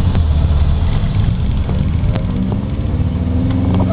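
Studebaker car driving around the block, its engine a loud, steady low rumble close by with slight variations in pitch and no talk.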